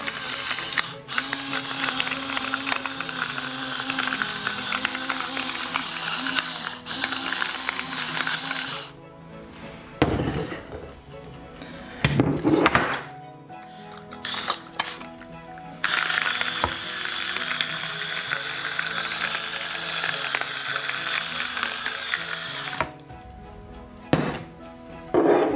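A pepper grinder turns over pork chops seasoned with garlic powder and salt, giving long stretches of gritty, rasping grinding broken by short pauses and a few clicks and knocks.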